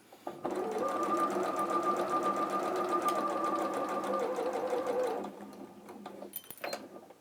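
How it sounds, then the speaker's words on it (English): A sewing machine stitches fabric during dressmaking in a steady, close mechanical whir with a fast needle pulse for about five seconds, then slows and stops, followed by quiet handling clicks. "Machine went a little bit berserk at the end then."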